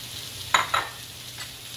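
Green onions sizzle in a hot pan as a sweet and sour medley cooks, a steady fry hiss broken by two quick stirring scrapes and a softer one later, close and moderately loud with no talk.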